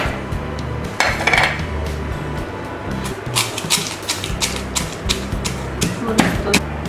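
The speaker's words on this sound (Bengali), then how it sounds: "এবার আমি মরিচগুলোকেও কুটে নিচ্ছি।" Green chilies being chopped with a kutni hand cutter while making raw mango pickle: a series of quick knocking chops and metallic clinks on a hard surface, irregular in rhythm, fairly close and loud.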